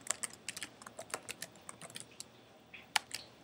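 Typing on a computer keyboard while setting up a parent account, with quick, uneven clusters of close key clicks and one sharper, louder tap near the end, with no voices.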